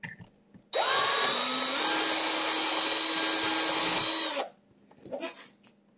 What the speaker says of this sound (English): the drill bit is actually removing the threads